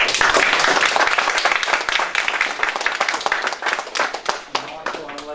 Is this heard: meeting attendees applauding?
yes